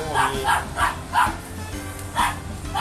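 A dog barks repeatedly in a steady series of sharp, fairly close barks, with short pauses between them, beside a folding dog crate.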